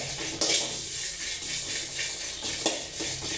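Asafoetida pieces roasting in a pan for homemade chilli powder, heard as steady scraping and stirring of a utensil against the pan with a few sharper metallic clinks, close and alone.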